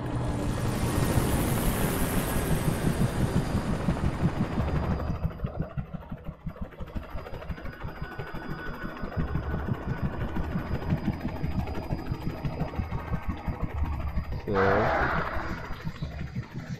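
Helicopter engine and rotor noise in the Alan Wake video game, a steady loud drone that drops and thins midway before swelling again near the end, with talk present over it.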